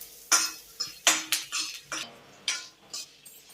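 Spices fry in a pan for pumpkin-leaf dalma while a metal spoon scrapes and clinks against it in a quick series of sharp, close strokes, with a faint sizzle underneath and no talking.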